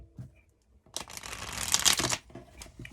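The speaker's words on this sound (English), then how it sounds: "Just going to give it a quick shuffle." A quick shuffle of a tarot card deck, a crisp riffling burst lasting about a second, preceded by a few soft card taps.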